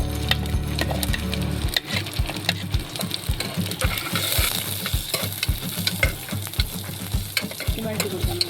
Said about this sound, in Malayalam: നമുക്ക് സവാള നല്ലോണം വഴറ്റി കൊടുക്കാം